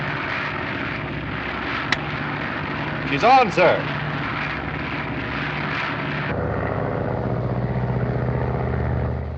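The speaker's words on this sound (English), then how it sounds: "The plane is now under radio control from the board here." Engine of a radio-controlled airplane in flight drones steadily and loudly, changing pitch partway through, with brief talk over it and an old film soundtrack feel.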